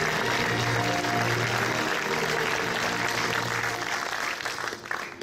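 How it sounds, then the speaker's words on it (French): An audience applauds at the opening night of a film festival, a dense steady wash of clapping that thins and fades over the last second. "Merci d'applaudir Denis Malval."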